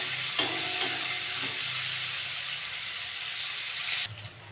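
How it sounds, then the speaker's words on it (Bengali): Onions frying in a pan for potol chingri, a Bengali pointed gourd and prawn curry, give a steady hiss and sizzle with a few stirring clicks near the start. The sizzle is close and continuous and fades suddenly near the end. "পেঁয়াজটা একটু ভালো করে ভেজে নেব।"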